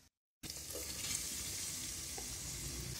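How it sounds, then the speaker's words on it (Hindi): Finely chopped onions sizzle steadily in hot oil with ginger-garlic paste after a brief silent start, a dense continuous hiss close up with faint stirring. "प्याज को हम गोल्डन कलर आने तक फ्राई करेंगे।"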